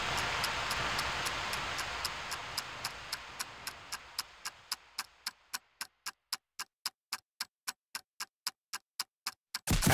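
A bomb timer ticks after explosives are planted in Call of Duty on the Carentan map, starting under a wash of noise and then standing alone as sharp, evenly spaced ticks that speed up toward the end.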